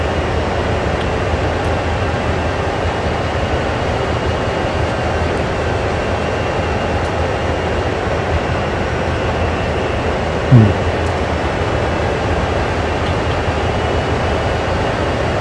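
A CSX diesel locomotive in the Train Sim World game rumbles steadily while backing up toward a fuel nozzle, a continuous broadband engine drone with one brief bump near the end.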